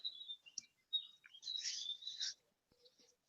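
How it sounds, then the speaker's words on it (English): Several birds chirp and tweet at dawn in short, high bursts, fairly faint and a little distant, with brief pauses between calls. "Can you hear the birds in the background waking up?"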